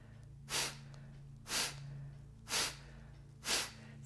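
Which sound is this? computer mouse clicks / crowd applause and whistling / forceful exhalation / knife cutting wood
forceful exhalation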